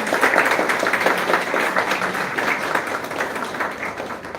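A large audience gives a warm round of applause for a guest joining a farmers' session on stage, with dense, steady clapping that stays loud and even throughout.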